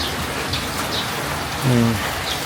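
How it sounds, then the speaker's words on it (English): Steady rain falls under grey skies, a continuous soft hiss throughout with a brief low hum or voice-like tone near the end. "It's still raining."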